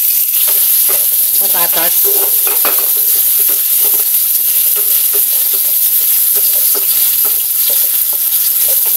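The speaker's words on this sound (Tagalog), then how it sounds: "Balikan natin habang fry ko yung ating pangalawang batch ng bulig." Bulig fish fry in a pan as a second batch, with a loud, continuous close-up sizzle and crackle while occasional stirring scrapes sound over it, and a brief spoken word slips in.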